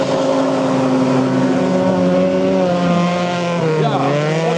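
A VW Golf autocross race car at Mölln pulls hard down the straight at full power, its steady engine drone rising and sagging through gear changes, loud and continuous with a commentator talking over it.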